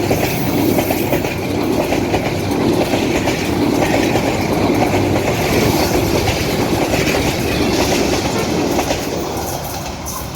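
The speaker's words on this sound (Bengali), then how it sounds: "অত্যন্ত দ্রুতগতি সম্পন্ন কুড়িগ্রাম থেকে ছেড়ে আসা ঢাকাগামী Kurigram express Muladuli railway gate দিয়ে পাস করে চলে যাচ্ছে ঢাকা অভিমুখে" A fast Dhaka-bound Kurigram Express passenger train rushes through the Muladuli railway level crossing, a loud, close, continuous roar of wheels and carriages with rhythmic clickety-clack that eases slightly at the end.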